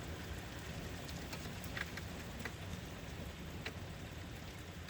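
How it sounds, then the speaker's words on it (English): Steady rain falling outdoors at night during a storm with earlier lightning, an even, continuous hiss of drops with occasional louder taps on nearby surfaces, fairly close and unbroken, no voices. "it's raining a little harder"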